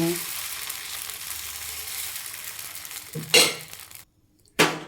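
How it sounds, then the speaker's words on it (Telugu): Dosa batter sizzles steadily on a hot oiled pan, a close, even frying hiss that swells with a couple of sharp bursts near the end before a brief drop to quiet. "ఆయిల్ స్ప్రెడ్ చేసుకున్న ప్యానం పైన మెల్లగా ఇలా తిప్పుకుంటూ దోశ వేసేయడమే"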